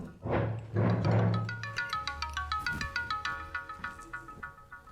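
A mobile phone ringtone plays a rapid, repeating electronic melody of bright pulsing tones, fairly close and alone, after a couple of brief thumps at the start.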